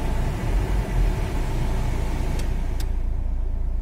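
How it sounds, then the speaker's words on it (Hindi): A Renault Duster engine idles steadily with a low rumbling hum, continuous and fairly loud, with a faint hiss on top, while the AC blower runs. "जैसा कि आप देख पा रहे अभी गाड़ी चालू है"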